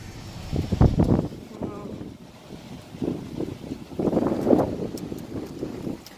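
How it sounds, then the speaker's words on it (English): Strong outdoor wind gusts roar and buffet the microphone during a storm near the water, rising and falling in surges with a person talking over them. "Yeah, we're getting heavy wind."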